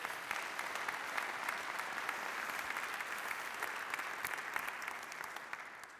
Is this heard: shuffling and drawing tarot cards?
no